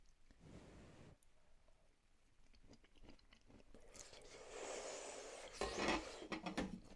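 Someone chews a piece of carrot from a homemade beef stew, a slightly crunchy bite that comes through as faint, close, rough crunching which gradually gets louder and more continuous toward the end.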